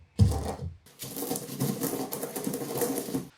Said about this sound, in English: just give them a bit of a bashing in the mortar and pestle